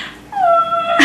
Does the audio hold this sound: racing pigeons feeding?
no